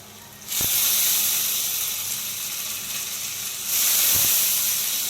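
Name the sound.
lentils (dal) frying in a pan with ginger and chili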